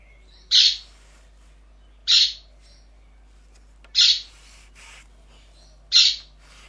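A parrot in a woodworking workshop gives four sharp, evenly spaced squawks about a second and a half apart, loud and near, with near silence between calls.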